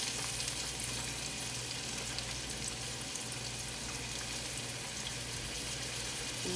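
Onions frying in a little oil in a pot, a steady, close sizzle that stays even and continuous throughout with no talk over it.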